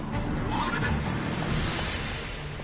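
Roach, a horse in the Witcher 3 video game, gives a loud, close neigh over steady, continuous noise from the game.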